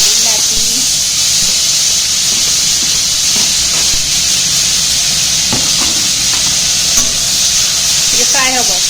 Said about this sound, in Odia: ଟିକେ ଫ୍ରାଏ ହେବ କିଛି ସମୟ